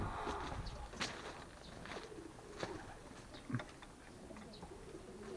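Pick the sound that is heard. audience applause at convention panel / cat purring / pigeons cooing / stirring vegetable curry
pigeons cooing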